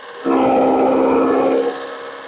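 A straw-cutting machine chops loose straw for cattle feed, a loud steady mechanical drone with a strong hum that runs for over a second before dropping to a lower running level.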